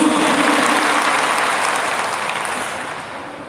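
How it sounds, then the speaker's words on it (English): A crowd at a Guruvandanam teachers' recognition event claps for the educators, dense, loud applause from many hands that gradually fades toward the end, with no voices on top. "Can you put your hands together and applaud it?"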